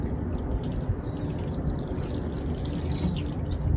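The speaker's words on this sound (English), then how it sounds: "I almost forgot to water them again." Water pours steadily over seedlings in pots, a continuous close, full splashing wash that carries on without a break and with no voices.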